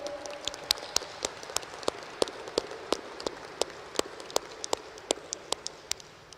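Sparse applause at a graduate school commencement, individual claps popping out irregularly over a faint hiss, fairly distant and thin, with no talking.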